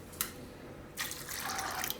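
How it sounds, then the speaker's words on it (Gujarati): Water pours onto green peas in a pot to boil them for Gujarati sabudana tikki, a short splash and then a steady faucet-like stream running for about a second, fairly quiet with no talking. "આ વટાણા છે એને થોડુંક પાણી નાખીને બાફી લઈએ"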